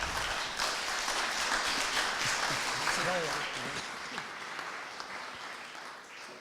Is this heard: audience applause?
yes